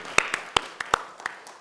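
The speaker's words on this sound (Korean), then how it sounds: "우리 중고등부 박수 한번 해주겠습니다" Sparse hand claps ring out in a church service as the congregation applauds the middle and high school youth group, a few sharp, uneven claps over quiet room tone.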